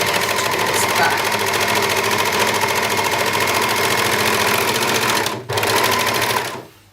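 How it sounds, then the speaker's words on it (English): Overlocker running steadily along a dress hem, a fast rapid-fire stitching chatter that is loud and close, nearly continuous with one brief hitch before it winds down. "I shall now turn it to sew the hem, to overlock the hem"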